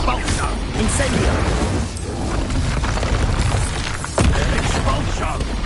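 Repeated Expulso explosion spells in Hogwarts Legacy: dense, loud blasts and crashes fill the clip, with a sharp burst near the end, layered over continuous combat noise and voices.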